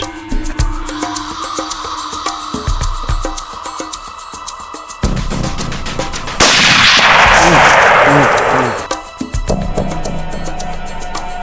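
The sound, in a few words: rifle gunshot, Musgrave Field Deluxe .308, hunting duiker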